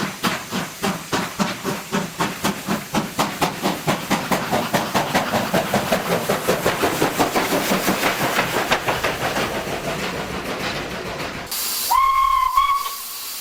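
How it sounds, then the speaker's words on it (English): A steam locomotive pulls away across Johannesburg's rail network, its loud exhaust chuffs coming evenly and then quickening into a fast rhythm, before a sharp steam whistle blows near the end. "Chris has set the regulator open and the locomotive begins to move over the complicated rail networks of Johannesburg."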